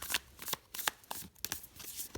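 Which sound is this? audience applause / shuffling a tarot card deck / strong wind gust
shuffling a tarot card deck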